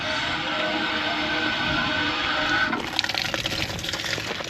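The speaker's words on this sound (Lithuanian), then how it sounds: "čia labai tokios įdomios būdavo kolonėlės vandens" Water gushing from a public water pump column after its handle is turned, a steady loud broadband rush that shifts to a splashier, more uneven flow partway through.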